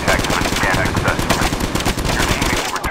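Rapid automatic gunfire in CoD Mobile battle royale, bursts of shots dense and loud for the whole span, with faint game clutter under it.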